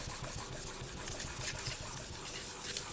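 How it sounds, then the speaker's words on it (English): A stencil is rubbed firmly onto a dry polymer clay tile during burnishing, giving close, soft scraping strokes that repeat in a quick, uneven back-and-forth rhythm. "give it a thorough burnish"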